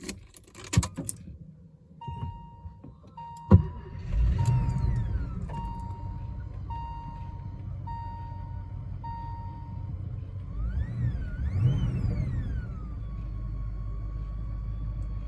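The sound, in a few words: Mercedes 450 SEL 6.9 V8 engine starting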